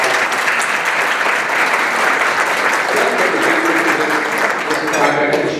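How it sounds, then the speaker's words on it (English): A room of people at a Leadership Medina County graduation ceremony claps steadily and loudly, a dense, even round of applause that holds throughout, with faint voices mixed in toward the end. "Everybody, a huge round of applause."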